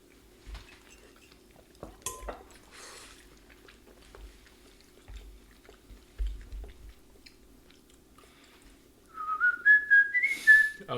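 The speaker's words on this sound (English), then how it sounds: "And then I taught myself how to whistle." A person whistles a short, bright tune close to the mic, heard after scattered clinks of dishes and cutlery and soft chewing during a meal.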